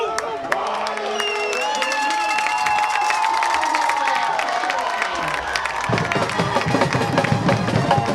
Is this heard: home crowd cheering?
yes